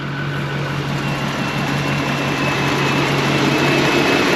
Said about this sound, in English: just change the oil in it, kind of letting it idle